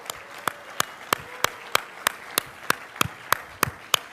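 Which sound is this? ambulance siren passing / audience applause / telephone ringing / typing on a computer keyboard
audience applause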